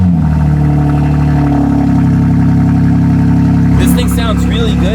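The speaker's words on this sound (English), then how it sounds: "let's get a cold start" BMW M3 engine cold start, a loud close-up high idle drone that holds steadily, then dips as the note changes near the end while a voice speaks briefly.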